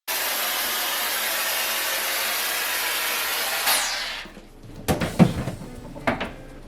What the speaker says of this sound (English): what the actual volume of the blow dryer is like